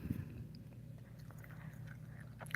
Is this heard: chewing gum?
yes